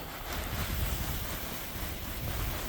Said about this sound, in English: anytime I plant something, I like to give it a little watering. Just get it watered in.